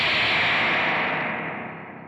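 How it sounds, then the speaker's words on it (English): A real spring reverb tank inside a Crazy Tube Circuits White Whale V2 pedal rings out in a bright, splashy wash that sustains, then slowly decays and darkens over about two seconds, loud and close with no one talking. "This is a real spring reverb"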